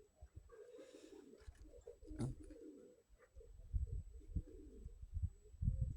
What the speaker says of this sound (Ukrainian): Давно у мене такого не було, щоб так ночі прилітали голуби.